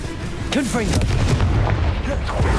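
A Confringo fire spell in Hogwarts Legacy bursts with booming, crackling blasts layered over whooshing magical effects, loud and close amid busy combat noise.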